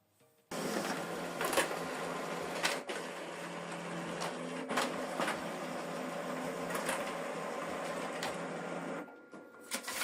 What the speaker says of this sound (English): This is the document we scanned and printed it out double-sided.